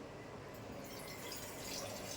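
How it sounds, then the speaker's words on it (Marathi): Water splashes and trickles steadily into a metal dhokla steamer pot, a continuous close pouring sound with faint dripping, no voices. "त्याच्यात आता आपण पाणी घालून घेऊया"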